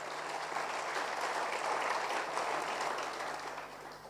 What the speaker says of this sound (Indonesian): Tepuk tangan yang lebih baik.